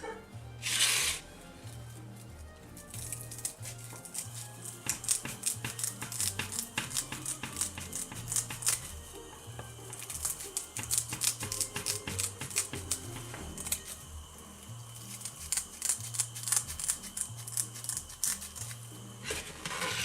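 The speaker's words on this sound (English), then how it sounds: "you're just going to take your scissors and kind of trim this up so that it'll kind of lay flush" Rapid snipping of scissors trimming a small prickly artificial Christmas tree for a craft project, dense clusters of crisp cuts and rustles repeating close up over twenty seconds beneath soft background music, with no one speaking.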